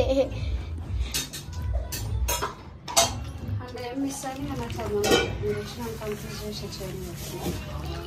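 A marinade is mixed in a bowl. Soft scraping and clinking of a utensil come in uneven strokes under a voice that talks throughout.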